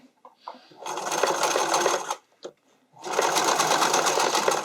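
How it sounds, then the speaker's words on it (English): A sewing machine runs in two steady, fast bursts separated by a short pause, stitching elastic into a keyhole neckline on a skating dress, close and loud with faint handling noises between runs. "I will always start on the raw edge of the keyhole when I'm doing an elastic in a keyhole neck, and I sew the whole thing in one kind of loop"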